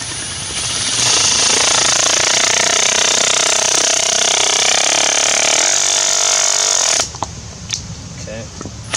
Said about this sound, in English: Now for the tap cons. Okay, Milwaukee Surge,